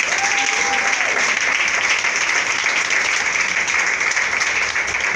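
A church congregation applauds steadily and loudly throughout, a dense wash of clapping with a brief whistle-like tone early on.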